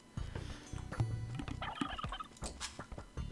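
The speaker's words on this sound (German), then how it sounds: "Ja, Truthahn." A turkey in the Age of Empires II HD Edition game gobbles in a quick run of bursty, warbling calls mixed with clicks and thumps from the game, fairly close and loud.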